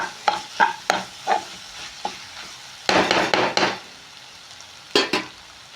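Tomatoes and onions fry in chili masala for egg burji, with rhythmic spoon-against-pan stirring strokes in short bursts over a moderate sizzle, close and clear, with pauses between strokes and no speech.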